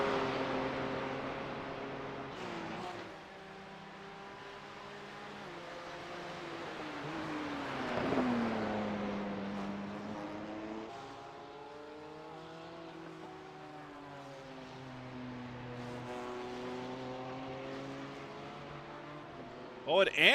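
GT3 race car lapping the Nürburgring in iRacing, its engine rising and falling through gear changes in long sweeping revs, moderately loud, with faint voices now and then.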